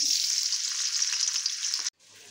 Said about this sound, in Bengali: ইঁচড়গুলোকে ওই ব্যাটারের মধ্যে দিয়ে নিয়ে সমস্তগুলোকে একসাথে মাখিয়ে নিয়ে তেলে ভাজবো